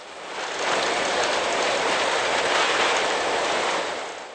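Freight train hauling laden log wagons along a railway, a steady broadband rumble of wheels on track that swells in and holds close and loud before easing away, with no voices.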